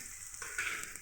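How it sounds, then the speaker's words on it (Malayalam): Garlic and onions with chilli and coriander powders sautéing in a pan for a chicken curry, a soft, steady sizzle and crackle close by, quiet and continuous. "വെളുത്തുള്ളി, ഇതെല്ലാം കൂടി വഴറ്റുകയാണ് കേട്ടോ."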